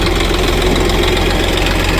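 A tractor engine idles close and loud, a steady dense rumble with a knocking, vibrating beat throughout and no talk over it.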